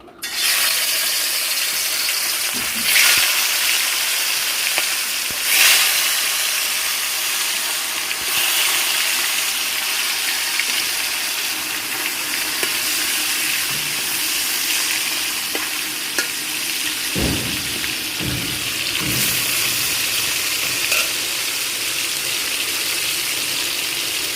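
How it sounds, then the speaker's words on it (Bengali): Fish frying in hot oil, a loud, continuous close sizzle that stays steady for the whole stretch, with a few louder spatters and occasional utensil knocks. "তেল গরম হয়ে গেছে, এখন মাছ দিয়ে দেবো।"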